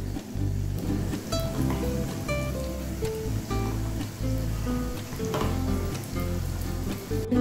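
Pumpkin pieces fry in a pan with a loud, steady sizzle that runs throughout, broken by faint clinks and stirring noises and with no speech.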